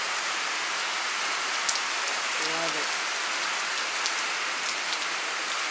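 Steady rain on an outdoor surface on a dry day with broadband hiss throughout, a soft tonal rumble at midpoint, and someone speaking briefly over it.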